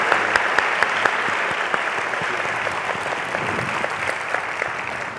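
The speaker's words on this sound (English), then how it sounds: "please give a round of applause for Mr. Paul Farmer" Steady, enthusiastic applause from a sizable lecture audience, continuous throughout with sharp individual claps standing out near the front.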